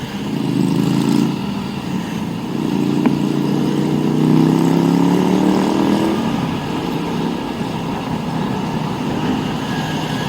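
A Vespa Matic scooter engine rumbles past, rising and falling as it nears and recedes, with a hum of other traffic in the background.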